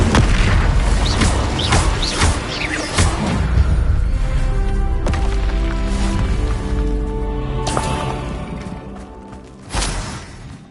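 Combat spells in Hogwarts Legacy fire in quick succession: several loud bursts, booms and whooshing impacts crowd together early on, then a quieter stretch with tonal magical shimmer, and a final sharp blast near the end.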